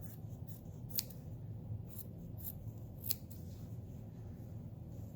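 Sharp scissors cut through felt in a quiet room: a soft continuous rasp of blades, with two crisper snips standing out, close and alone.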